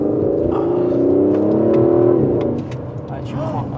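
An Aston Martin DB11 engine revs loudly from inside the car, a deep rising roar that builds for about two seconds before easing back to a lower rumble, with people talking over it.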